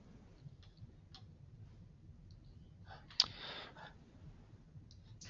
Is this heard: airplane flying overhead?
no